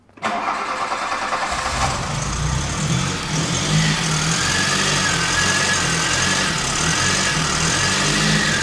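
A VW Derby car engine cranks and catches right at the start, then settles into a steady, fairly loud running idle close by, with no voices over it.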